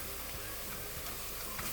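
Masala spices hit onions frying in a pan, giving a steady, close sizzle with faint stirring scrapes running under it. Nothing else interrupts the sound.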